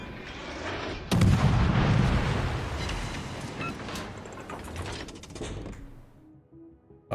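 Heavy tank cannon fire in a World of Tanks–style battle with a T8 Kiev: a loud, close boom sets off a long rumbling decay, followed by scattered mechanical clatter and smaller distant shots.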